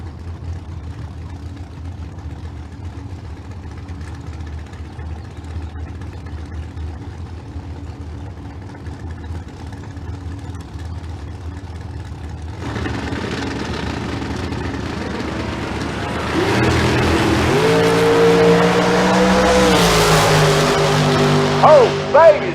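An '87 Firebird and a dragster in a bracket drag race at Famoso Dragstrip, a low engine drone that swells into a loud rising roar of revving engines pulling away, with an announcer talking over it.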